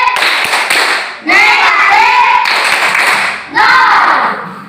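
A school class claps hands in a quick rhythmic pattern, loud and close, with short pauses between bursts and voices chanting along.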